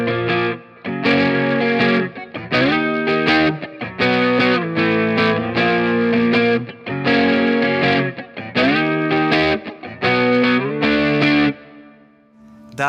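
Clean electric guitar on the neck pickup with a warm, round tone, strummed chords of a song in a steady rhythm with slight chorus shimmer, playing alone and ringing out at the end.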